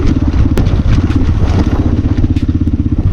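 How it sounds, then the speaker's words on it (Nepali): A modified Honda CX250R motorcycle with its dB killer removed runs loud and close, its engine note choppy with rapid crackling misfire pops and bangs throughout. "बाइकको मिसफायर पनि हेर्नुभयो होला कस्तो दामी मिसफायर फाल्छ"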